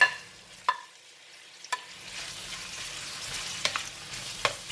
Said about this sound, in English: We're going to keep frying until the onion becomes soft.